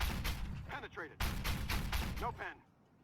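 Cannon shots from an LAV-150 in the Armored Warfare game land as several sharp, booming bursts in a loose rhythm, with someone commentating over them.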